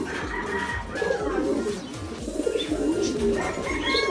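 Soft, repeated cooing of several racing pigeons close by in a loft in Calamba, Laguna, low throaty calls overlapping with faint background chatter and rustling.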